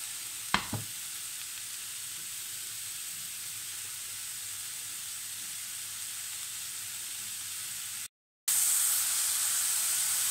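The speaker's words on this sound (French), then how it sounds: "je les fais juste saisir un petit peu." Mushrooms searing in a hot pan for a veal blanquette, a steady close sizzle and hiss with a brief stir-clatter near the start.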